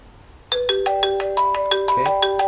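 A landline telephone on a home VoIP system using Asterisk PBX rings: an electronic tone that starts abruptly and repeats in quick, regular tonal pulses, clear and close, with a pitch shift near the end.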